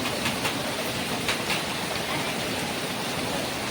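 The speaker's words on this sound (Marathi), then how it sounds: "हे खूपच मुसळधार पाणी चालू आहे सगळं पाणी शिरलंय आतमध्ये" Heavy rainwater backing up from a drain and flooding inside during a downpour, a loud, steady broadband rush and roar that continues unbroken from start to finish.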